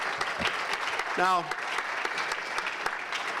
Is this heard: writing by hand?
no